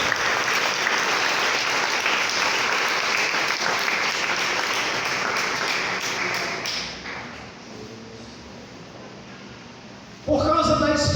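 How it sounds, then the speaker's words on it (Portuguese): A church congregation claps loudly in a sustained burst, then the applause thins and fades into a quieter room before a voice comes in at the end. "Você pode dar uma salva de palmas para Deus?"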